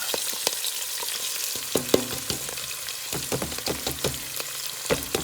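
Garlic, about ten or eleven cloves, frying as a tomato sauce base, with a steady sizzle broken by repeated close scraping and clanking of a utensil stirring it around the pan, no talking.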